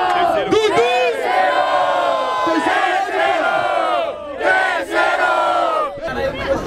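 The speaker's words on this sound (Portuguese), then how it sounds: "Barulho para as rimas do Perim." A large crowd at a freestyle rap battle in Barueri, São Paulo, cheers and shouts continuously, loud and close, with rising whoops and yells layered over a steady roar.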